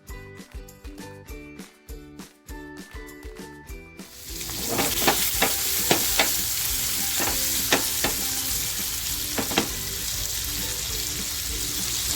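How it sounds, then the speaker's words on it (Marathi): Fish fries in hot oil for a masala fish curry, a dense steady sizzle starting partway in and holding at close range, with occasional clinks and scrapes of a utensil; no talk. "एक बाजूने आपली मच्छी फ्राय झालेली आहे"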